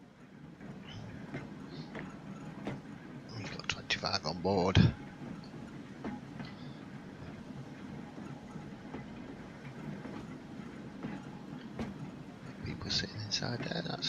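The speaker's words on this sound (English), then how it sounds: "Okay, so we've got some electric trains." Electric trains run in the Transport Fever video game, a low steady rumble with faint clicking, under continuous talk and a brief louder passage midway.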